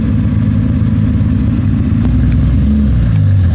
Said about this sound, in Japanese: 非常にマフラーのエキゾーストの音がかっこいいケンメリ R 仕様でしたね